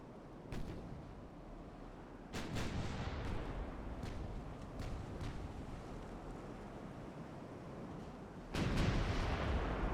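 Big battleship guns in a naval warfare game boom in several heavy salvos against a constant rumble of sea and wind, the loudest blast coming near the end.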